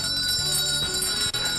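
Christmas bells chime over a busy children's rock song from The Wiggles, ringing steadily through the short passage amid loud music.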